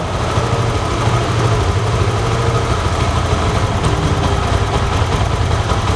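A motorcycle engine idles steadily with a continuous low throb and rumble, close and loud, with no talk over it.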